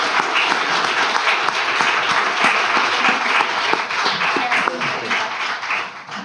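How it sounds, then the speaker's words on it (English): Loud, dense applause from a conference audience thanking the organizing committee, steady and sustained throughout with no voices on top. "let's give them a round of applause"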